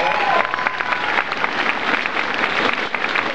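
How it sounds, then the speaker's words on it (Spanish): A crowd of football fans in Tampico applauds at a Huracanes Tampico kit presentation, loud and dense clapping that runs continuously from start to end with no voices on top. "Si les gustó, aplaudan."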